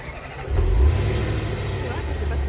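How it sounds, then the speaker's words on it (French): Late-2019 Range Rover SVR with a V8 engine starts up, a short low rumble rising to a brief peak then settling, fairly subdued, with a voice talking over it. "Au niveau du bruit, là on démarre."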